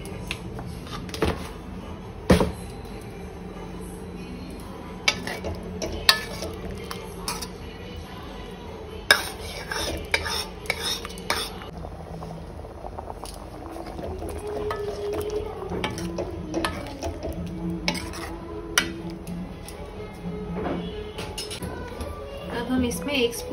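A spoon scrapes and clinks against a metal pot while a dish is mixed, giving irregular knocks and rattles, with occasional speech in the background.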